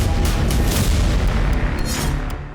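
Explosions in Syria recorded for news footage make a heavy, continuous low boom and rumble, loud and close, easing slightly toward the end with no voices.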